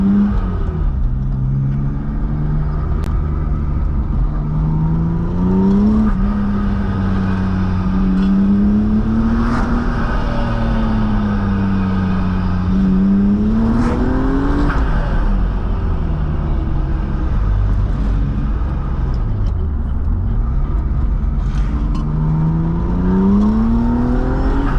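A supercharged BMW E36 M3 drives through canyon roads, its engine droning loudly and continuously with repeated rises and falls in pitch as the revs climb and drop, with no talk.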